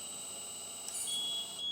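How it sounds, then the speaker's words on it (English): A high, steady electronic alarm tone from a 1/14-scale RC hydraulic reach stacker container handler (Terex TFC45) sounds continuously, faint and thin, with a brief extra bleep partway through. "Alarm is on."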